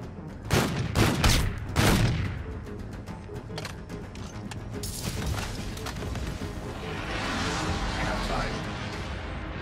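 Combat in the Call of Duty Infinite Warfare shooter: a cluster of loud, sharp shots and booms up front, then a quieter rumbling wash of distant fire and explosions, with a voice briefly heard.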